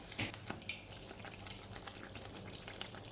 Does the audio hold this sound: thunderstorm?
no